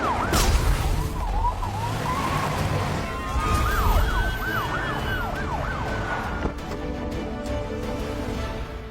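An ambulance siren wails in a Bollywood movie scene, its rising and falling tone sweeping repeatedly over a dense, loud background of traffic and commotion before fading.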